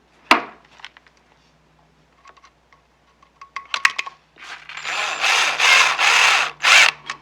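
Power screwdriver driving a screw into a wall outlet plate, preceded by a sharp knock and faint clicks, then several short whirring bursts close by.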